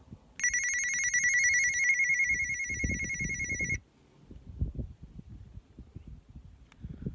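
A steady, high electronic call tone holds for about three seconds, then cuts off, leaving soft handling noise and faint rumbling.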